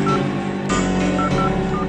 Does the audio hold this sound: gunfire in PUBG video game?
no